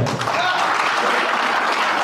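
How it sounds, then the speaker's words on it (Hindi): A seminar crowd at an RCM marketing plan meeting claps in a dense, continuous burst of applause, close and fairly loud, with no pause for its whole length. "तालियां नहीं बनती इस पे?"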